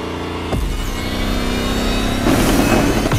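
Lamborghini Terzo Millennio engine in The Crew Motorfest racing game, a loud steady roar that holds through a run to the finish, with a sharp shift at the start and swelling louder near the end.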